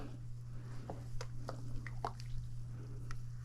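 Thick plantain porridge being stirred in a pot, giving soft wet squishing and dripping sounds at an uneven pace, close and fairly quiet over a steady low hum, with no talking.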